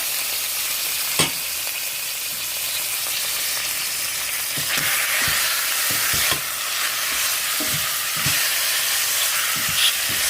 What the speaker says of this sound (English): Saute it until it's a little bit brown and until there's no more juice.